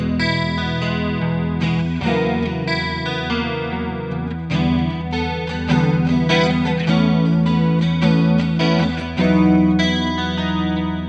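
An electric guitar runs through a Boss CH-1 chorus pedal and plays a continuous chorded riff with a shimmering, wavering chorus tone and some grit. It is loud and steady, with no talking.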